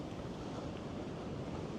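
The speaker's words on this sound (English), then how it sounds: "You can see the waves rolling in" Large ocean waves break along the Oregon coast and are heard from a distance as a constant, dense surf roar blended with wind noise, with no individual crashes standing out.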